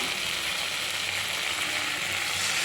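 A bhola fish curry with potatoes sizzles and fries in the pan as water is added, giving a continuous loud hiss and crackle throughout with faint low clinks and no talking.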